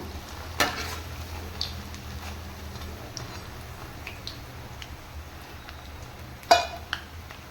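Sweet susiyam dumplings with a split bengal gram filling deep-fry in oil, bubbling at a low, steady level, with a couple of sharp utensil clicks against the pan and no talking.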